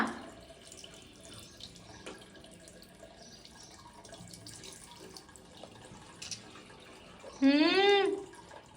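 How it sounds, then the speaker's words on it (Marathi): A tap runs into a sink during tooth brushing, a soft steady trickle close by, while people talk and a brief loud voice cuts in near the end. "बंद करा पाणी आता"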